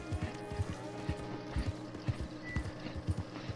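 Clydesdale horse hooves clip-clopping in Red Dead Redemption 2, a steady rhythmic walking gait with soft repeated thuds, fairly quiet and close over a low ambient bed.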